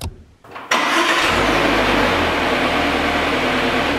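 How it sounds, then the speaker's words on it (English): A car engine cranks and catches inside a closed garage, jumping from near silence to a loud, steady running rumble that holds for several seconds with no talking. "why did you start your engine?"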